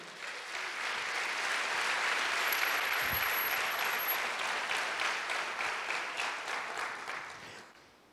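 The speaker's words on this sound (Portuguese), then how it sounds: "Aplaude o Senhor que é digno." A church congregation applauds during a Sunday sermon, a full sustained round of clapping that swells, holds and then fades toward the end.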